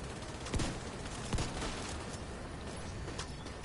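Gunfire in The Division 2: two sharp shots stand out, about a second apart, over a constant noisy game-world din, with fainter pops later and no talking.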